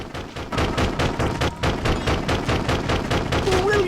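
Rapid, continuous gunfire from guns aimed at flying enemies in the video game Death Jr.: Root of Evil, a dense rattling stream of shots with a brief lull midway, loud and close with game sounds around it.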